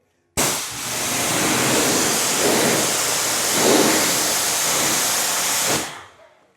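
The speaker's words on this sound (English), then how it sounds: "Let me rinse off the windshield." Pressurised water spray rinses a car windshield after a spray wax application, a loud, steady hiss lasting about five seconds that starts and stops abruptly, close to the microphone.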